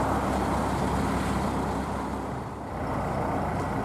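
Road traffic rumbles steadily below a canal boat as it crosses over a busy road at rush hour, a dense, continuous roar of cars and heavier vehicles that dips slightly for a moment, with no talking.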